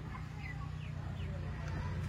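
Broiler chickens clucking at a spot where birds are sold as crocodile feed, a busy stretch of short calls and chatter over a low steady background hum.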